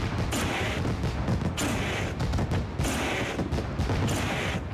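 Fireworks go off at the start of a sprint car race at Eldora in a racing video game, a dense, continuous barrage of crackling bursts that swells and fades in waves, loud and close throughout.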